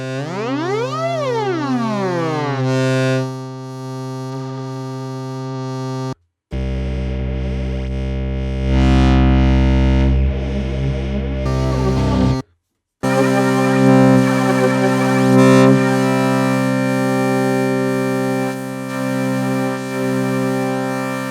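An ASM Hydrasynth synthesizer with its mutant modulation turned fully up plays three sustained, distorted tones separated by short silences. The first tone has swooping pitch sweeps, and the last two are dense and buzzy.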